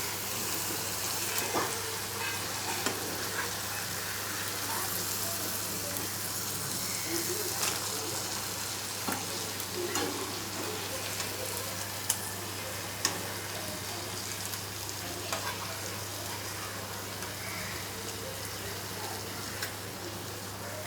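Eggs for a hotel-style masala egg dish fry in a pan over medium gas, giving a steady, even sizzle with faint scattered ticks and pops throughout, close and continuous.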